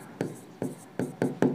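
A teacher writes on a board during a class, with four or five short scratchy strokes coming at a fairly even pace, close and moderately loud, with no other sound in between.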